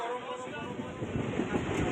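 Inside a passenger train travelling toward Krishnanagar station, a steady, close rumble of the carriage fills the whole stretch, even and continuous with faint crackles riding on top.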